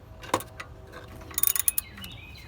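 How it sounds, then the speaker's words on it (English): A hand ratchet clicks on the cam bolt of a 2004 Toyota Tundra during timing belt work, with a short close burst of rapid metallic ratcheting among a few scattered taps. "the reason I have a ratchet in my hand is because I like to put it on here, on this bolt here in the middle of the cam"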